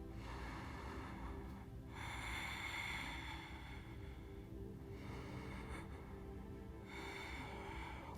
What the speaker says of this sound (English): Try to enjoy a breath that moves your entire belly.